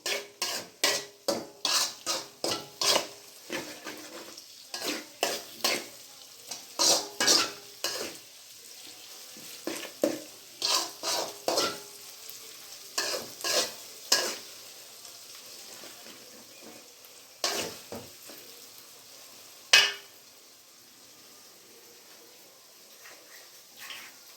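A spoon scrapes and knocks in a pan while chilli and pepper powder are stirred into gobi manchurian, loud rhythmic strokes in bursts over a faint sizzle, then slowing to a few sparse taps, with no talking.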